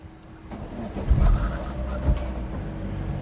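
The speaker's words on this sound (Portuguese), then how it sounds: "bora ligar aqui o carro aqui e mostrar o painel em detalhes" A Chevrolet Cobalt LTZ engine cranks and catches, a low thump and rumble building to a steady idle, close by, with faint bird calls in the background and no talking.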